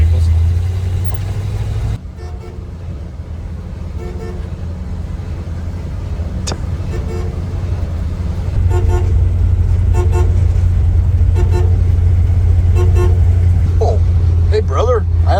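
A 1970 C50 truck drives along the road, its engine a steady low rumble that grows louder after the first few seconds, with a brief horn toot and passing traffic and someone talking over the drive.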